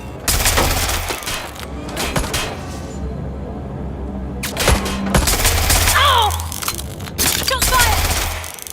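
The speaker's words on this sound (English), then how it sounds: "Shots fired." Bursts of gunfire in the Watch Dogs: Legion video game: several loud, sharp volleys of shots crack out in clusters over a steady low rumble, with some brief high whistling sounds in between.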